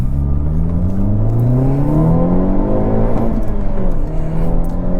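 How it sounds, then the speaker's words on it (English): Exhaust of a 2022 Hyundai Elantra N driven hard in N mode on a handling test, a loud continuous snarling drone with rising and falling engine pitch as it revs. "Good snarl from the exhaust"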